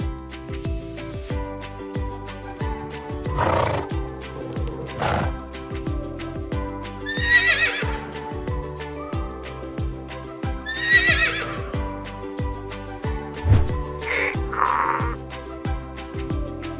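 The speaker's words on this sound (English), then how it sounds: "Horse." A farm horse whinnies in several separate neighs spread over the stretch, loud and close, over steady background music.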